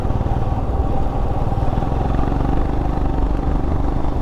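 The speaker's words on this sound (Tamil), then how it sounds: "அந்த கேஸ்கெட் சேஞ்ச் பண்ண உடனே சைலன்சரோட சவுண்டே ஒரு மாதிரி பாலிஷ்டாக மாறிடுச்சு" Motorcycle exhaust fitted with a new silencer gasket, a steady low throbbing engine note running continuously and fairly loud, with a smoothed, refined tone and no voices.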